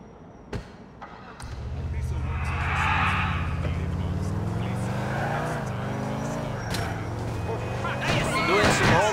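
A car engine runs and revs in GTA IV as the car drives toward a hardware store on Dillon Street, with a loud, continuous drone, thumps near the start and a voice talking over it.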